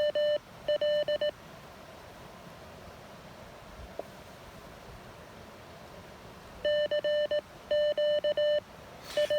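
Morse code CW tones come from an Elecraft KX1 radio during an outdoor portable activation in light snow. Short keyed beeps arrive in two clusters, at the start and near the end, with a quiet hiss between them.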